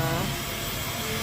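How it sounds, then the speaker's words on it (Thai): Steady, loud blowing roar of a hair dryer running close by without pause. "ขออภัยเสียงเป่าผมนะคะนะคะ"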